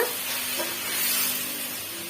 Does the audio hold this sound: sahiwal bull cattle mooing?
no